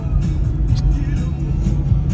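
A vehicle passing by, a low rumbling engine drone that stays close and steady for a couple of seconds, with people talking over it.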